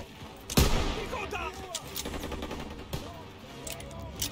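Rapid bursts of gunfire in Call of Duty WWII crack close and loud, with sharp repeated shots over a steady rumble, while voices talk at times.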